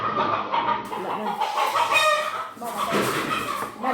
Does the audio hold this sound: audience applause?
no